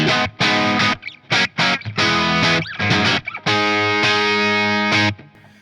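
Distorted electric guitar chords through a Strymon Flint reverb pedal ring out in bursts with short gaps, each tail washing into a spacious reverb; loud and close, no voices.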